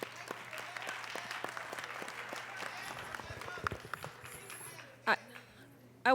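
Scattered audience applause at a Chicago Urban League and Chicago Police Board community input session, moderate and fairly distant, fading out toward the end as a voice speaks over it.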